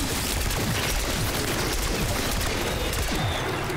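Rapid, continuous gunfire from Call of Duty Black Ops 6 Zombies, dense overlapping automatic shots at steady volume with no pauses.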